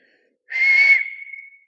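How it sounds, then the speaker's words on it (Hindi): A person whistles with the mouth, one short steady tone that starts suddenly, holds loud and close with a breathy edge, then fades out. "जैसे अभी हम सीटी बजाएंगे देखिएगा"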